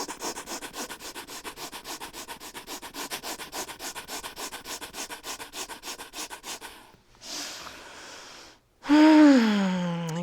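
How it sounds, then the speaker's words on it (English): Rapid, rhythmic breaths in and out through the nose during an advanced yoga flow, a close, steady run of quick sniffing pulses for several seconds, then a pause and a longer, louder breath. "we'll take 25 rapid inhales and exhales through the nose"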